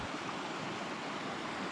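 A waterfall among the crags of the Yelanka rocks in Yakutia pours in a steady, dense rushing roar, heard close and unbroken throughout.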